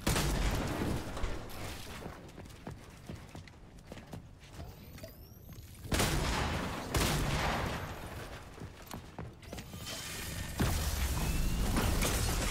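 Shotgun blasts in Fortnite come as loud sharp reports at intervals among quieter clicks and mechanical handling noises, with a few bursts of gunfire and a brief rattle of other weapons.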